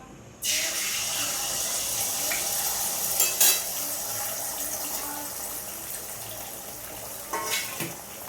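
Egg sizzles loudly as it fries in a pan, a steady broadband crackle starting abruptly after a brief quiet moment, with a few clinks of a spatula stirring near the middle and end.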